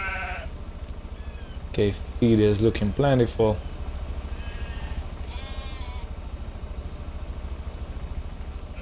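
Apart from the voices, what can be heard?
sheep and goats bleating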